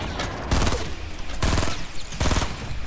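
Rapid automatic gunfire from the video game Fortnite rings out in three loud sustained bursts separated by short pauses, with no talking over it.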